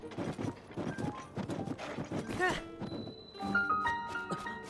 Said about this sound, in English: That's a splendid horse.